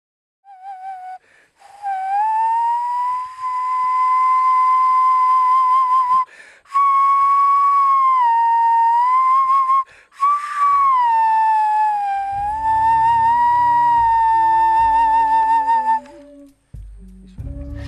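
A shrill prehispanic whistle is blown in long sustained blasts with wavering pitch. Low rhythmic thumps join in near the end.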